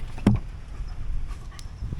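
A dog panting close by while stepping over a float tube, with one sharp thump or whimper near the start and then soft, steady breathing against quiet outdoor background.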